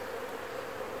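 Honey bees buzz steadily in an open hive during July in Newfoundland, a dense, even drone filling the whole second with no break and no other sound.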